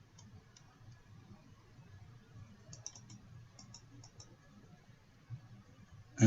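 Sparse, faint mouse clicks in editing software while making a farm flyer, soft isolated ticks over a low background hum, with a louder knock at the very end.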